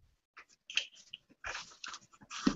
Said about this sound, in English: That was a dog sniffing.